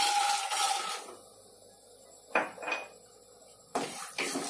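Peanuts go into a pan for Mumbai-style kanda poha, and a spoon stirs them. Several sharp metallic clinks and scrapes come close up, in short bursts with quiet gaps between them.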